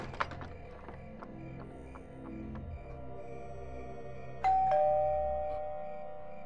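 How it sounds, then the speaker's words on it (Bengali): A doorbell sound effect in an audio drama: soft, repeated chime taps give way to a louder ding-dong tone that rings out and slowly fades, heard alone without voices. "আরে আজব তো, মাত্র কলিং বেল বাজলো।"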